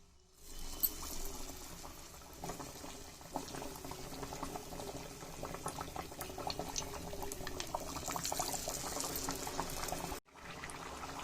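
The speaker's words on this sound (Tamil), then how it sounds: "டிப் பண்ணிட்டு அதை அப்படியே எண்ணெயில போட்டு பொரிச்சு எடுத்துக்க போறோம்." Batter-dipped baby potatoes frying in hot oil, a continuous bubbling sizzle that holds steady throughout and cuts off abruptly near the end, with no one speaking.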